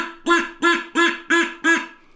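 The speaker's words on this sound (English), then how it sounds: "I like to take them and make duck calls out of them" Five evenly spaced nasal quacks from a homemade duck call cut from an ordinary drinking straw, each blast short and loud, sounding alone without talk.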